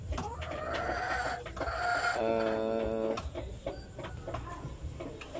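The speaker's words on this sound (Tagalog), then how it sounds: "dito tayo sa ating munting manukan" Chickens cluck in a small backyard coop of native and Peruvian Blue fowl, with repeated close calls and one longer drawn-out crowing cry in the middle.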